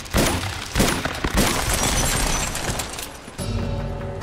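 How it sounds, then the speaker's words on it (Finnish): Rapid gunfire and shattering impacts from the video game Uncharted 2: Among Thieves as objects are shot to pieces, a dense run of loud bursts and breaking crashes over a few seconds. "Me ammutaan nää rikki."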